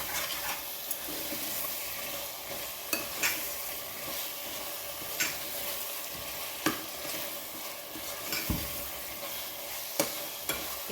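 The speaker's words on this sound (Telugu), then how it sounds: "మొత్తం చక్కగా కలుపుకొని ఒక 2 మినిట్స్ అలా వేగనిద్దాం" Chicken for biryani frying in a pan, a steady close sizzle with the scrape and clink of a spoon stirring at irregular intervals, no voices.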